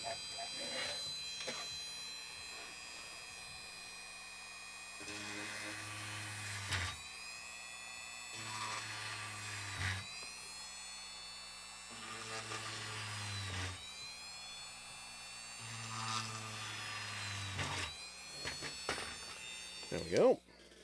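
Dremel 3000 rotary tool held in a pistol grip, fitted with a chuck rather than a collet, whining at a high, steady pitch. It runs in several bursts with short pauses between them, and a voice talks faintly underneath.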